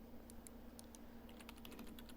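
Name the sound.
keyboard typing in the video game Everlasting Summer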